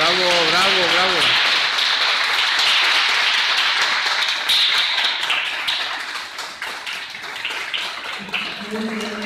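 An audience at an art exhibition event in Mexico breaks into sustained, dense applause for the painter, steady and loud for several seconds, while a voice speaks briefly at the start and again near the end.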